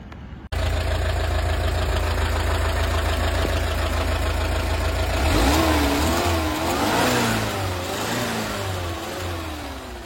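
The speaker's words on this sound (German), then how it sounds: "dass der Motor nicht mehr so optimal läuft. Irgendwie, ob die Vergaser sich verschlucken" A car engine with carburettors idles unevenly and close, a steady low drone that rises into a few revs midway and settles back, running rough as if the carburettors are choking; no voices.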